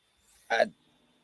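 A single short, sharp sneeze bursts out in a quiet room, preceded by a faint intake of breath.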